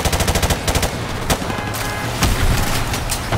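Rapid automatic gunfire and explosive blasts from the Call of Duty: Modern Warfare Remastered campaign, a dense, loud barrage of bursts with sharp cracks and heavy booms in a battle against a truck.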